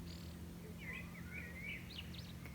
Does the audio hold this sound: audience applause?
no